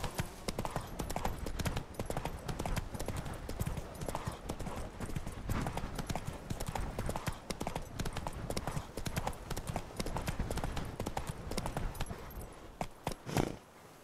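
A horse gallops in The Witcher 3: Wild Hunt, played on PS5, with fast, steady clip-clop hoofbeats running close and loud for the whole stretch.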